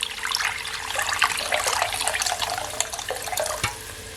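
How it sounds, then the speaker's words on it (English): Water poured from a kettle into a cooking pot of chicken, rice and mixed vegetables, making a loud, continuous splashing rush that runs a few seconds and then tapers off. "I add at least 3 cups of water from my kettle."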